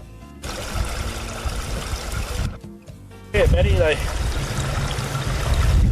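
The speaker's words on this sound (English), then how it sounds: "used this hollow log. Two of them put together to carry the water from the little billabong there over this side of the road." Water trickles and splashes steadily as it runs through two hollow logs joined together, carrying it from a small billabong across a roadside in Cape York, with people talking over it.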